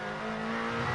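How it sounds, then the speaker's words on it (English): Toyota touring car racing at Pukekohe in the 1994 Asia Pacific touring car round, closing up under brakes; a loud, steady engine drone with a constant pitch fills the whole second. "But it's Bailey closing up under brakes in the Toyota"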